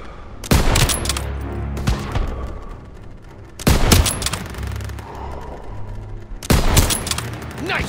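Gunfire in the video game Call of Duty WW2 arrives in three loud bursts of rapid shots about three seconds apart, each one followed by a rumbling echo that dies away. No one speaks.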